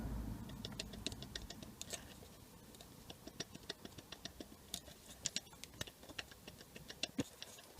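The worn drivebelt tensioner pulley on a BMW E46 with the N42 engine rattles in quick, faint clicks and ticks as it is shaken back and forth by hand, close up and without talk.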